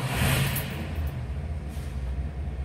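Engine of a 1969 Itamaraty car, catching with a brief louder burst, then settling into a steady, rough low idle, close by and continuous, with no voices.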